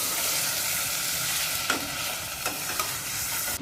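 Ginger garlic paste frying with chicken in a pot for bhindi gosht, a loud continuous sizzle up close, broken by a few sharp scraping stirs of a spoon against the pot near the end.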